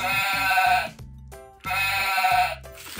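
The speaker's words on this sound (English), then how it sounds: "Ooh, a sheep." A sheep bleats twice in quick succession, each call loud, close and drawn out with a wavering tone, separated by a short pause, alone without any talking.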